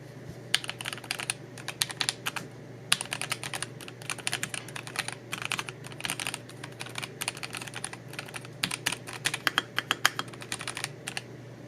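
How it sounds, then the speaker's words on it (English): Keys clacking on a Melgeek Mojo 84 mechanical keyboard (Wasteland Edition), a steady run of close, crisp keystrokes with irregular typing rhythm and no talking. "you're going to hear me typing."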